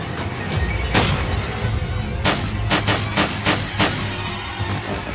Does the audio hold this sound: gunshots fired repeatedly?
yes